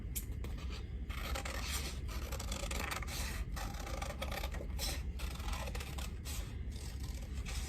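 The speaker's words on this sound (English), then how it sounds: "So for our next step, we're going to cut this out." Paper being cut out for a craft pattern, a steady, close rasping and rubbing of the blades through sheet paper that runs continuously at low level with no talking.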